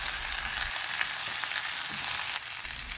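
Washed sweet potato pieces with skin on, frying in a pan for sweet potato vatha kulambu with tamarind water, giving a steady close sizzle throughout that eases slightly near the end.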